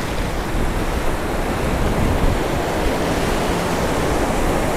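Steady, loud roar of ocean surf on a beach in Goa, India, a dense wash of breaking waves filling the whole stretch without pauses or voices.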